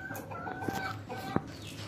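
A broody hen that has been sitting for seventeen days clucks softly nearby, giving short low repeated clucks with a faint background hum.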